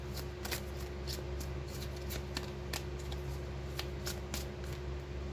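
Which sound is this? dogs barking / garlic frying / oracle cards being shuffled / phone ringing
oracle cards being shuffled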